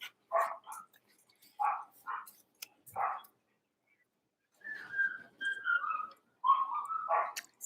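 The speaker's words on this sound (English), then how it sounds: "Sorry about the dogs." Dogs bark in short separate bursts in the background, followed by a stretch of high, whining yelps, moderately faint.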